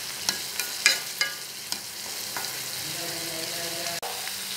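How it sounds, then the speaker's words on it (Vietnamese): Bell pepper stir-fried with bitter melon in a pot, a steady loud sizzle with a series of sharp scraping clicks from the stirring utensil, then the frying settles into a continuous crackle. "Bây giờ em sẽ đổ cái ớt chuông vô"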